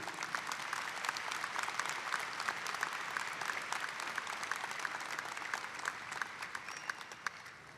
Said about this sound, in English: Will we please give a round of applause to all of our staff who make Murray State the finest place we know.